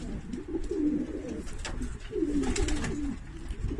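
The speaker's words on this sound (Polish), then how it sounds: "Gołębie są zdrowe, zadbane, mają dobry wigor." Racing pigeons coo softly in low, throaty, repeated calls close by, with faint background rustling.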